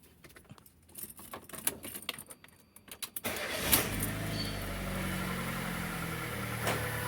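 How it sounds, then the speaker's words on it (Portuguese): Fiat Fire 1.0 car engine being started after a few seconds of handling and clicking, then settling into a steady, fairly loud idle with an odd mechanical noise running through it, close by. "pra vocês verem um barulho que esse carro está fazendo na hora que está funcionando"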